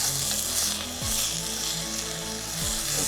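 Onions fry in a pan for a lamb pot, giving a continuous bright sizzle and hiss with occasional stirring scrapes, while a faint low tonal sound runs underneath.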